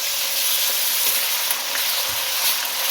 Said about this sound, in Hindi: अब कीमे को इतना भूनना है कि इसका कलर चेंज हो जाए।